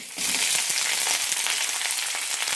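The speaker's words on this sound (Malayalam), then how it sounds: "ഒരു ടീസ്പൂൺ എണ്ണ ഒഴിച്ചിട്ടുണ്ട് ഇതിലേക്ക് സവാള ഇടാം" Sliced onion drops into a teaspoon of hot oil in a pan for carrot chutney and sizzles at once, a loud, steady, close frying hiss that carries on without a break and with no voices.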